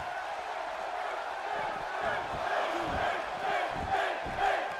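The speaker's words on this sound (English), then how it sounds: "And the crowd again, chants of Finn here in Brooklyn." Arena crowd in Brooklyn chanting for Finn Balor in the WWE 2K18 wrestling game at SummerSlam, a dense roar with rhythmic chanting that swells in pulses and stays fairly close.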